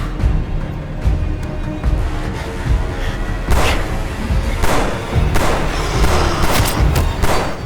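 In a sci-fi film fight against clones on an island, several loud bursts of gunfire crack out at irregular intervals over a rumbling, chaotic background, close and forceful.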